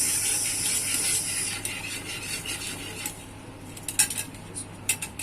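A ladle stirs Maja Blanca with egg and cheese in a pot, making a soft steamy hiss that gradually fades. Toward the end come a few sharp metallic clinks and scrapes, close and moderately loud.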